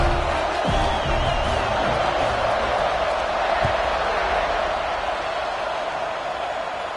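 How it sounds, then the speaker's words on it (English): A stadium crowd roars in the college football video game NCAA College Football 26, a steady and loud wash of cheering with a few thumps. "this crowd is buzzing after that last score"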